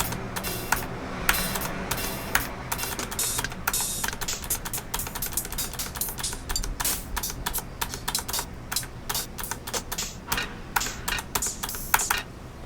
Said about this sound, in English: I'm using my arrow keys just to go scroll through all these.